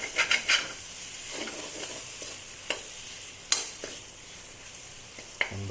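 Ingredients fry in a pan for a rohu fish curry with thekera tenga, a soft continuous sizzle broken by close stirring scrapes and a few sharp utensil clicks against the pan.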